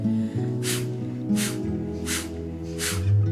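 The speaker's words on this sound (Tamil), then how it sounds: "கையை வைத்துக்கொண்டு வேகமாக மூச்சை ஒரு 5 முறை வெளியே தள்ள வேண்டும்" Four sharp, forceful nasal exhalations in yoga breathing practice, evenly spaced about three-quarters of a second apart, close and loud over a faint low hum.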